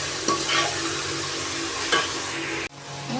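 Onions sautéing with salt in a pan while chicken curry is being cooked, giving a steady close sizzle with a few scraping stirs, then a sudden drop to quieter frying near the end.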